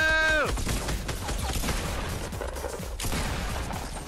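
Rapid gunfire from an online Fortnite match, dense bursts and overlapping shots with booms, loud and continuous across the whole stretch, with no voices.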